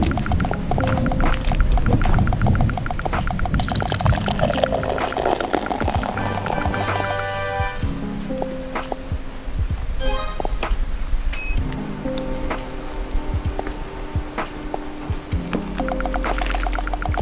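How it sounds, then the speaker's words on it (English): Beer poured aggressively into a glass, a long gushing, splashing stream with fizzing and bubbling that runs loud and close throughout. "That's what I call an aggressive pour."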